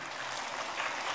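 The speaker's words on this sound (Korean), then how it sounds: "이분들이 찬송을 불러야 박수를 치는구나" Steady applause from a church congregation after a hymn, a dense wash of clapping hands at moderate distance, heard alone for about a second.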